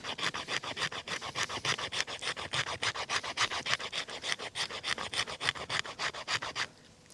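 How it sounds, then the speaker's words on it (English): The spine of a Scandi-grind bushcraft knife, the WTG Nomad Bushcrafter Gen2, scrapes wood into fine fuzz shavings in a fast, steady run of about thirty rasping strokes. The scraping is close, then stops abruptly near the end. "if we can scrape any fuzz off of that using the back of the spine"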